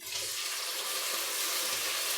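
Canned tomatoes slosh and pour steadily into a pot of chickpea stew, a close, continuous wet gush with a faint sizzle-like hiss.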